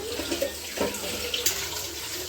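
Water runs from a tap into a pot to soak rice, a soft steady trickle with small splashes and clinks, fairly quiet and close.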